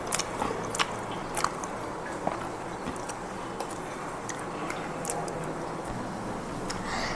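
Someone eating a ragi chocolate pancake made on a tawa, with soft bites and chewing close to the mic over a steady background hiss, quiet and irregular.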